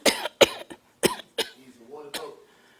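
A man at a news conference coughs several times in sharp, close bursts, followed by a brief throat-clearing sound.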